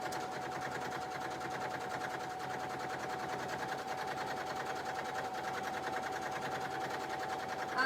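Sewing machine back stitching a petticoat: a fast, steady mechanical chatter that runs without pause, close and moderately loud, with no talking.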